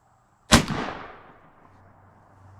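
One sharp, loud crack from an airgun firing a Nielsen knurled boat tail hollow point slug at 25 yards, with a short echoing decay afterwards.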